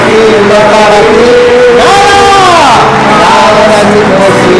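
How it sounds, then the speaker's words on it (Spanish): A church congregation at a healing service cheers and shouts loudly together. Sustained voices rise and swell in unison over a dense, continuous crowd roar. "¡Fuertes aplausos!"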